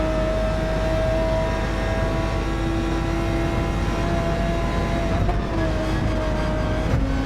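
Race car in Gran Turismo 7 at Sardegna heard from the in-car view, a steady loud engine drone holding pitch, then a brief dip and change in tone near the end as it downshifts.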